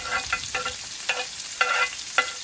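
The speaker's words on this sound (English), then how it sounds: "let me go ahead and add the garlic and the onion. We're going to saute this for about 5 minutes so everything's translucent." Garlic and onion sauté in a pan with a steady sizzle, broken by several bursts as the utensil stirs and scrapes. Close and fairly loud, with no voices.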